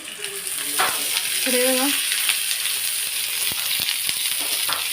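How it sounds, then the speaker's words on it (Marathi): Onion frying in a pan sizzles steadily and loudly up close, with a few clinks of a stirring utensil and a voice briefly over it. "आता मी इथे कांदा भाजून घेते"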